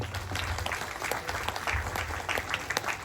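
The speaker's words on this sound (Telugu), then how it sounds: "దేవునికి గట్టిగా చప్పట్లు కొడదాం" A village congregation applauding at a church feast in Sompuram, a dense burst of many hands clapping steadily at moderate distance, with faint voices underneath.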